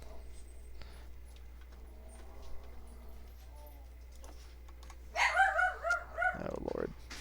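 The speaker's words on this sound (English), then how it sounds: "Sorry about the dog." A dog barks in a short burst of several loud, near yips and barks that trail into a whimper, following quiet talk in a room.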